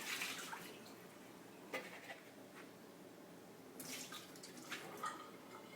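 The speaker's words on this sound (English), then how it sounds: "We're going to empty the bowls and bottles of the no-rinse cleanser." Water poured out of a 3-quart mixing bowl and bottles while they are emptied of no-rinse cleanser, giving a steady close splashing and trickling with a few brief sharper splashes, no talking.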